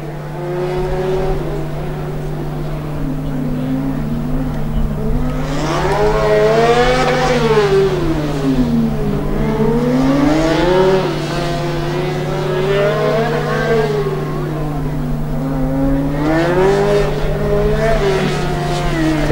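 Formula Student race car from the Coburg team on its final endurance lap, engine note rising and falling steadily as it accelerates and brakes through corners, loud and continuous with a steady hum underneath.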